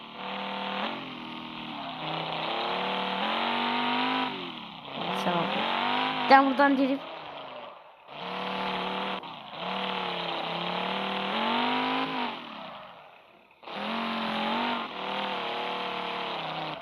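Engine of a car in a nighttime car-parking video game set in Russia, revving and shifting in repeated rising sweeps with short gaps, mostly steady and fairly loud, with a brief burst of squealing clatter midway and someone talking over it.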